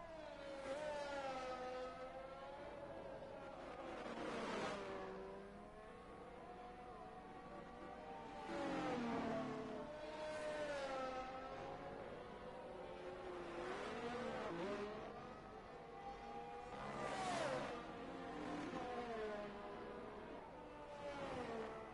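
A race car in a racing game sets off on a qualifying lap at the Yas Marina circuit in Abu Dhabi, its engine revving up and down through repeated gear changes, loud and continuous throughout.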